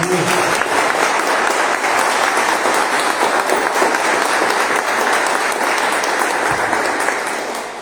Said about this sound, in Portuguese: Mais um aplauso ao Senhor.